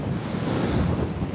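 Strong wind buffeting the microphone while sailing, with the rush of waves against the boat blended into a dense, loud roar, brief and continuous.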